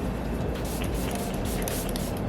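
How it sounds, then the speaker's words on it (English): Makeup setting spray mists from a bottle close by, a continuous hissing spray with slight pulsing from repeated pumps. "We're gonna spray."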